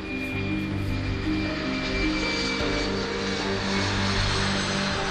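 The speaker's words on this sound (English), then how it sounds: "the plane, is right in front of me." A plane at an airport, heard as a loud, continuous engine roar and drone that holds steady throughout, with no talk over it.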